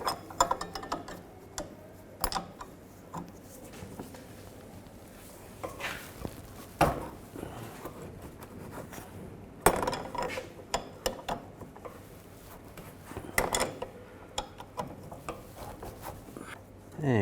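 Ratchet tightening the nut on a sway bar link of a 2006-2010 Volkswagen Jetta, giving brief bursts of clicking mechanical strokes close up, with someone speaking intermittently over the work.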